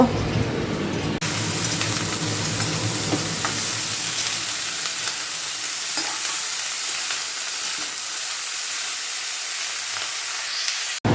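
Pakoras fry in a pan of hot oil, giving a continuous bright sizzle with occasional crackles and scrapes that runs steadily throughout, with no talk.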